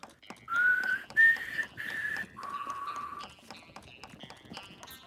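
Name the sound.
whistled imitation of the Mockingjay call from Hunger Games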